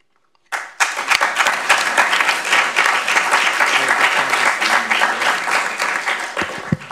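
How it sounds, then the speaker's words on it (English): Audience applause at a student meeting bursts in suddenly and holds as a steady, dense wash of many hands clapping, fairly loud and close, tapering slightly at the end. "That clap was for you, Barry."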